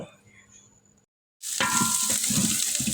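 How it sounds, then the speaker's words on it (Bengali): Onions frying in oil for Bogura-style alu ghati: after a near-silent pause, a loud, dense sizzle bursts in and holds steady to the end. "আলু ঘাটির জন্য পেঁয়াজগুলো বেরেস্তা করে নেওয়া হচ্ছে মানে ভেজে নেওয়া হচ্ছে"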